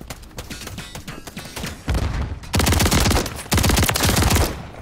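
Rapid automatic gunfire from a shooter video game with slug rounds rattles in repeated bursts, the sharp volleys growing louder and denser across the second half, with no talk over them.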